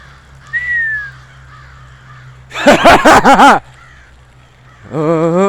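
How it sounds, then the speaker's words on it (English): A rapid burst of harsh crow caws close by, followed after a pause by another drawn-out caw; a brief thin whistle sounds earlier. "Yeah, there's these crows. Crows! Crows!"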